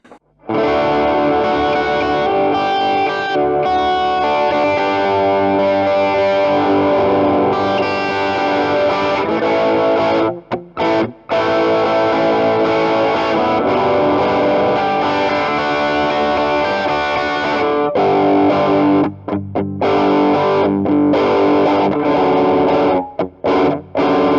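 Electric guitar through a Keeley Katana Blues Drive overdrive pedal plays a continuous, warm, gritty bluesy riff, loud and close, with a couple of brief pauses and no voices.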